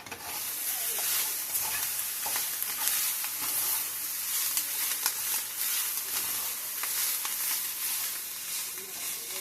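Peppers stirred in a hot iron skillet, a steady loud sizzle and hiss of frying with scraping stir strokes throughout, no talking.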